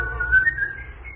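A man whistles a brief, clear tune in a short rising and wavering phrase, close and alone, from an old radio story about golden touch.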